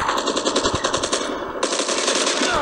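Rapid automatic gunfire from the Call of Duty Mobile video game, loud and continuous bursts firing steadily throughout with a brief dip midway, no talk over it.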